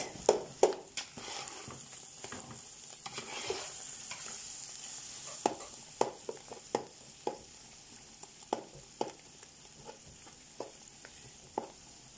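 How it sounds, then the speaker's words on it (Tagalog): Garlic sautéing in a pan, a soft steady sizzle broken by frequent sharp clinks and scrapes of a utensil stirring against the pan, with no talking. "We saute the garlic, then we wait until brown."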